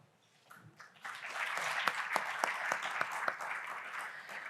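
A conference audience breaks into applause as a panel is welcomed to the stage. It starts quietly, rises after about a second into sustained clapping, and individual claps stand out along the way, with no talk over it.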